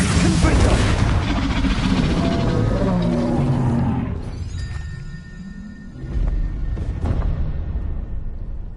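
A Confringo explosive spell cast in the Hogwarts Legacy video game: a loud, roaring burst of blast and rumble, close and heavy, fading through a quieter dip before more game combat noise returns.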